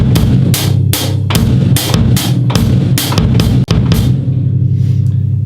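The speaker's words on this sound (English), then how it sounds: "I'll just play the right hand part and the bass drum part and I'll leave out the left hand stuff" A drum groove of hi-hat and bass drum alone, close and loud: the hi-hat strikes repeat in a steady rhythm over regular low bass-drum thumps, with no talking.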